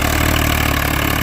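Swaraj 855 tractor engine idling steadily at close range, a loud continuous low diesel throb with a regular pulse, no talking over it.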